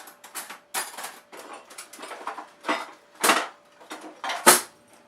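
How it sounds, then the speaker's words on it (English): A seed, nut and dried fruit bar mixture with a little cacao is stirred and broken up in a bowl, giving a run of short scraping and clinking strokes of the utensil against the bowl, with several louder knocks, close up and with no talking. "And then we're going to get it stirred in. Break down the chunks and get it all stirred in."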